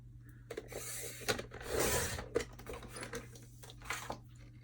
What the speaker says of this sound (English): Now I'm going to trim off this rough edge here.